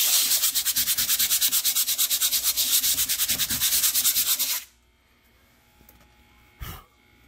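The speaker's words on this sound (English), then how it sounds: "So sanding it seems to have made a world of difference." Paint is sanded off a glass fish tank with rapid, rhythmic scraping strokes for several seconds, then the rubbing stops, leaving near quiet with one brief knock.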